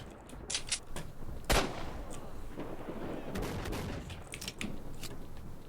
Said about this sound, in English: let's make the guy shoot